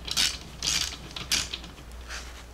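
Ratchet wrench tightening bolts during a 3-inch lift install on a 1978 Jeep J10, three or four bursts of fast clicking separated by pauses, close and clear over a low steady hum.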